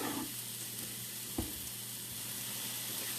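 Orange and red pepper pieces fry in a pan with a dense, even hiss of sizzling oil that holds steady close to the microphone, broken once by a brief knock partway through.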